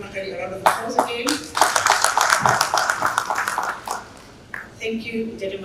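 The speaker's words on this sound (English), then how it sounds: "Ladies and gentlemen, let's give Madam Makali a round of applause again." A room of people at an industrialisation conference clapping for a presenter, a burst of close, dense handclaps that swells, holds for a few seconds, then thins and fades, with some voices mixed in.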